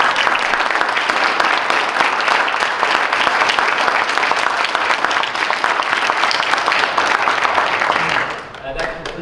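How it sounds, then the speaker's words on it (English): A crowd applauds at a city council candidate forum on Austin Energy issues, dense continuous clapping filling the whole stretch before tapering at the end. "Let's give a big round of applause to our"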